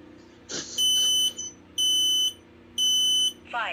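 A talking smoke alarm under test sounds three loud, shrill electronic beep bursts, each about half a second long, with short gaps between them. A brief rustle comes before the first burst and another near the end.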